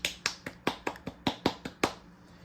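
A quick run of about ten light, sharp hand claps sounds close and unaccompanied, in a slightly uneven rhythm that trails off near the end.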